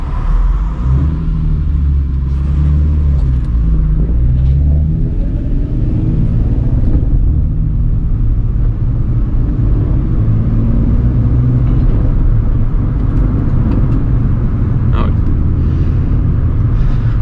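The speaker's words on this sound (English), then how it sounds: "car coming." A car driving past on a road, heard as a loud, steady low engine rumble with a brief rise in the first few seconds.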